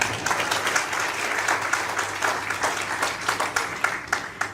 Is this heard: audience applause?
yes